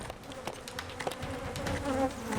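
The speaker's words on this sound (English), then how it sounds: "carefully moves the angry hive to its new home" Agitated honeybees swarm and buzz inside a heavy hive as it is carried to a new spot: a dense, continuous, close-up drone with shifting pitch and no voices.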